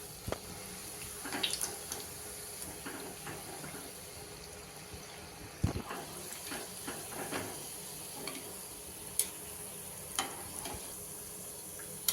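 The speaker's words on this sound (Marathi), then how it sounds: "याच पद्धतीने पुढच्याही कचोरी आपण तळून घेऊया" Kachori deep-frying in oil makes a continuous, moderate bubbling sizzle, broken by occasional clinks and taps of a utensil, with no voices.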